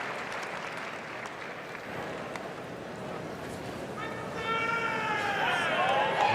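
Crowd applause and cheering rise in an arena at the Westminster dog show, a steady roar that swells louder near the end, with faint whistles and commentators talking over it.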